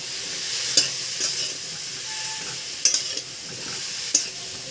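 Slit green chillies sizzle in hot oil in a pan while a spoon stirs them, with a steady hiss broken by a few sharp scraping clinks.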